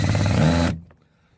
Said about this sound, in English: I'm going to screw this into place